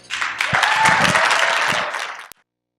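A conference audience breaks into loud, dense applause to welcome Tim O'Reilly, many hands clapping steadily for about two seconds before the sound cuts off abruptly.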